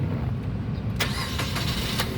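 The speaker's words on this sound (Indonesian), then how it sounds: "sekarang kita coba nyalakan mobil ya" A 2018 Suzuki Karimun Wagon R 1.0 GL manual's engine cranks and catches, turning over with a few rhythmic bursts before settling into a running rumble.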